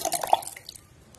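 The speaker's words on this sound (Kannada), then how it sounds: "ಇನ್ನು ಬಾಕಿ ಇರುವಂತ ಹುಳಿ ನೀರನ್ನ ಹಾಕೊಳ್ಳೋಣ." Tamarind water is poured into a mixer jar, making a short run of wet splashes and drips that fade into quiet within about a second.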